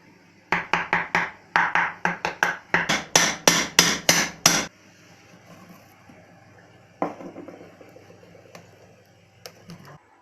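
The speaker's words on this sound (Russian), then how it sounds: "Я вооружился топориком и молотком. Попробуем разбить этот волшебный соляной панцирь." A hatchet and hammer strike the baked salt crust on a lamb head: a fast run of sharp, loud, close knocks for a few seconds, then a few scattered taps with quieter scraping between them.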